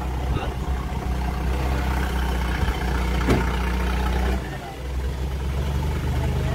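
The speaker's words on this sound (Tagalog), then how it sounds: "Kasi ito motor." A motorcycle engine idles nearby at an outdoor Christmas party, a steady low rumbling hum that holds evenly throughout, with a brief dip near the end, under background voices.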